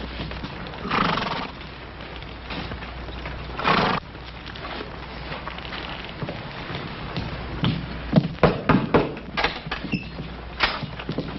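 Cavalry soldiers' horses approach with clip-clopping hooves and occasional snorts or whinnies, the steps growing louder and more clustered toward the end as the detail halts; no talking.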